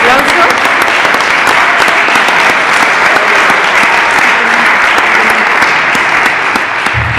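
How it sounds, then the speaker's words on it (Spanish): Loud, sustained applause from an audience at a book presentation, dense clapping that fills the room evenly and stays strong throughout. "un fuerte aplauso"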